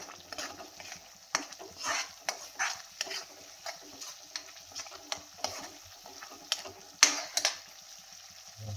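Mixed potato, carrot, peas and cauliflower stirred as they fry in a pan, with soft steady sizzling under repeated scraping strokes and light clinks of a spoon against metal, close by with no talking.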